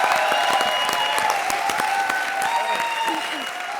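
A studio audience at an Indian TV comedy show claps in steady, continuous applause that stays loud throughout, with no voices.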